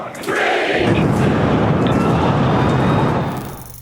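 SpaceX Starship explosion at Starbase: a sustained, loud broadband roar that rises abruptly and holds steady for several seconds before tapering off, dense and rumbling like a distant blast.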